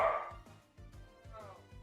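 A dog named Charlie gives a string of higher-pitched, yappy barks in a steady rhythm. A burst of other noise comes at the start and background sound runs underneath.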